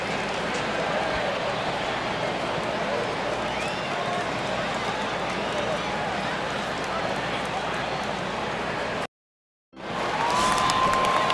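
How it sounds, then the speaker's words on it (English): Baseball stadium crowd noise in the video game MLB 2K11 during an evening game: a steady, dense crowd murmur runs loud and unbroken for about nine seconds, cuts out briefly, then returns. "you can hear a bit of the crowd behind here."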